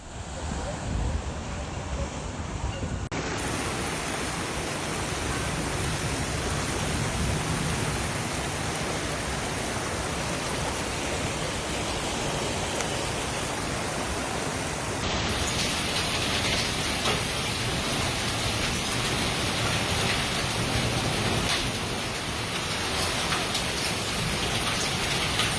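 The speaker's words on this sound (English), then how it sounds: "the onset of the steady, heavy rain that began in the early morning hours" Heavy Arizona monsoon rain pours down steadily in a dense, unbroken hiss, loud and close throughout with no voices.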